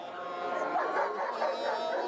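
Dogs bark and yip with whimpers amid a crowd at a street protest by dog owners outside a town hall, the barking scattered and fairly close over steady crowd noise.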